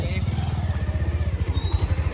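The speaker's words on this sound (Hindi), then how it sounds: "अभी मोटरसाइकिल पे जाने वाले हैं" A motorcycle sets off, its engine thudding in a steady low pulse close by, with voices in the background.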